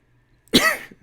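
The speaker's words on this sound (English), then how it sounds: "It was a cough, by the way." A single close, sharp cough from a streamer at a desk, a short burst followed by a fading breathy tail, heard alone with no talking.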